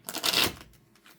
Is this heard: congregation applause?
no